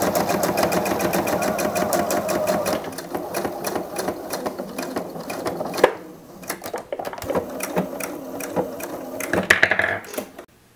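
A domestic sewing machine runs steadily, stitching a 1 cm seam joining the front and back of a bodysuit, with a rapid needle rhythm that briefly pauses around the middle while the fabric is repositioned, then resumes close and fairly loud.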